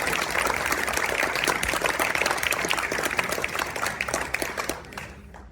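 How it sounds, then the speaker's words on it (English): Audience applause at a plenary session, dense steady clapping from a full room lasting about five seconds before tapering off quickly at the end. "can you give David a big round of applause, please?"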